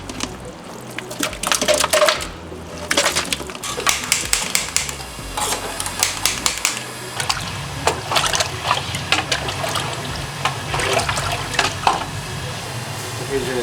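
Drained pork ribs and spices go into a large restaurant pot, making busy clattering and rattling with some wet liquid sounds, close and continuous, while a person talks.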